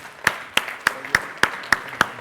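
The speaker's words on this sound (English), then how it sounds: "Please give them a big applause." Clapping at a conference session, heard as seven sharp, evenly spaced claps in a steady rhythm, close and distinct against a quiet room.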